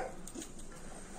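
A black dog whimpering, short faint whines and a small yip at moderate distance over quiet outdoor background.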